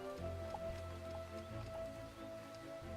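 Steady patter of poison rain falling in the video game Starbound, a continuous soft hiss with faint tonal game music underneath and no speech.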